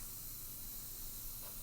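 Aerosol spray paint can hissing steadily onto a computer case, a continuous broadband spray held for the whole stretch at moderate level, with no talking.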